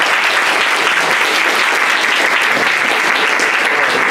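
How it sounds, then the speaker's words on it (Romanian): An audience in a chapel claps for a guest at a talk, dense and steady applause from many hands, loud and continuous from start to end. "Aplauze sunt pentru ea"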